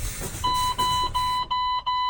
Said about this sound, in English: I want to make sure my warning lights and my buzzer goes off to let me know that I have low air pressure.